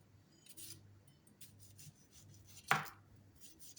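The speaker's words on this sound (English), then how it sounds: "You're gonna cut the onion. Remember, I'm using the white onion." A knife works through a white onion in a home kitchen, a few soft, faint cuts on a board with one sharper chop standing out near the end, no talk.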